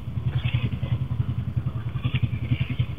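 Motorcycle engines idling and puttering in a crowded jam near a concert at the Jakarta fairground, a close, rhythmic low chugging pulse that throbs steadily throughout with no talk.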